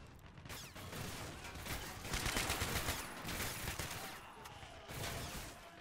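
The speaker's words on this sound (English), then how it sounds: "The Dragunov back here engaging infantry at distance." Dragunov sniper rifle fire in a Russian infantry battle within a video game, heard as continuous distant gunfire crackling with irregular shots and bursts, faint and steady throughout with no voices.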